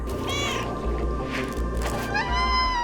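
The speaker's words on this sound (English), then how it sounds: "no amount of cute meowing will get around that fact" A cat meows several times over a steady hum of ambient background music, the cries soft and drawn-out, one rising at the end.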